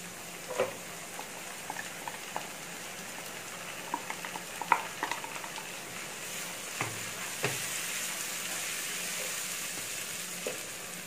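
Ground tomato poured into a pan for brinjal masala, sizzling and frying steadily with scattered stirring clicks and soft pops throughout, close and moderately quiet.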